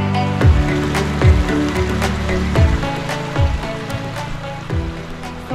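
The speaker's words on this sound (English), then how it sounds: "see what happens when you have to have an emergency bivy bag camp in the rain" Steady rain patters on the fabric of an emergency bivy bag at a wet outdoor camp, a dense close hiss with heavier drips striking the surface every second or so.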